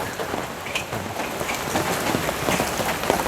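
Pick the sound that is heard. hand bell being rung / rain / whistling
rain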